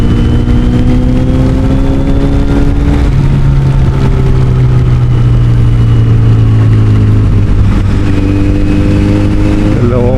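A Kawasaki Z900SE motorcycle engine runs steadily throughout a wet rainy ride, with strong low harmonics that rise and fall in pitch as the throttle changes, loud and close, and wind and rain noise over it.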